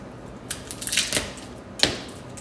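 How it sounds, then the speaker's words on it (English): Knife roughly chopping garlic cloves on a cutting board, a few sharp separate cuts close by, with a quiet gap before a final louder chop. "I'm just roughly chopping up 3 garlic cloves."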